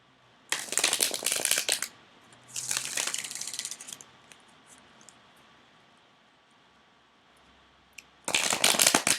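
Playing cards are shuffled and handled in three bursts of crisp riffling, close and fairly loud, with quiet pauses in between and no talking.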